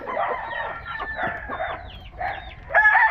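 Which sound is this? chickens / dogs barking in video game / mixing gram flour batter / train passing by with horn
chickens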